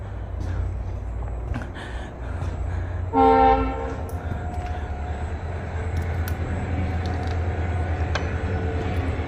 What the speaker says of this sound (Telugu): ఈ ట్రైన్ సౌండ్